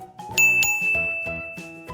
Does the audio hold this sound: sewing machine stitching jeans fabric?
no